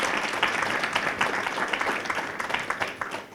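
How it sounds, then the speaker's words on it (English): Audience applause for a panel at a community learning-series event on Asian culture, a steady, dense wash of clapping that holds for a few seconds at moderate loudness without speech. "let's give a round of applause to our panelists"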